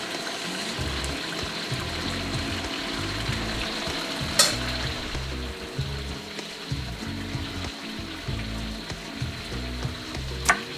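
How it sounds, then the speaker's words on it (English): Steady crackling sizzle of tempura-battered beef deep frying in hot oil, continuous and close, with a couple of sharp clicks. "we're going to finish deep frying"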